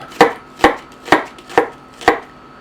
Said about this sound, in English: I'm going to bisect the onion just right down through the root there. And then I'm going to do a French cut.